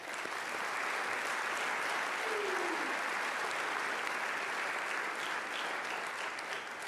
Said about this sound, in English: Let's give them a round of applause here.